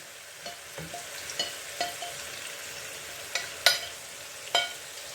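Peppers and onions sizzle softly in a pan, with a steady low frying hiss punctuated by several sharp clicks and scrapes of a utensil stirring against the pan, no voices.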